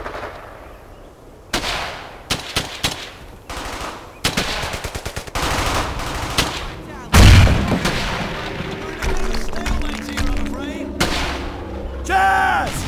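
Bursts of machine-gun fire and heavy artillery booms in a World War II shooter game, loud and close in rapid irregular volleys, with a big blast midway and soldiers shouting between shots.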